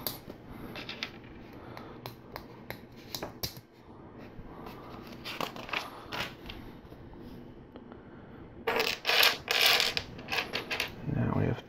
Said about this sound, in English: Insert some friction pins.